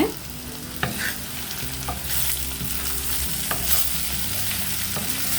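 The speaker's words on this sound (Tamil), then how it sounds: "இதை நம்ம அப்பப்போ கொஞ்சம் கலந்து விட்டுக்கோங்க" Brinjal fry sizzling steadily in a pan while a spoon stirs it now and then, with a few sharp scrapes against the pan over a constant frying hiss.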